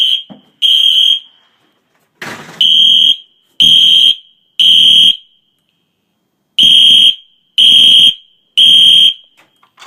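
During a test, a fire alarm blares loudly in repeated harsh, shrill bursts of about half a second each, separated by short silences with one longer pause midway.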